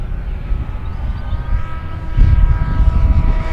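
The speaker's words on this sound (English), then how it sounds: "Beautiful flying plane, nice and smooth." FMS de Havilland Beaver 2000mm RC model floatplane in flight on its maiden flight, its electric motor giving a steady, fairly close drone that swells louder partway through, with no talking.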